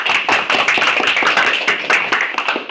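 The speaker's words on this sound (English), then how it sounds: "Please a round of applause for Toastmaster Adrian." A small audience at a Toastmasters meeting claps for a speaker, a close, steady patter of many hands throughout the short stretch.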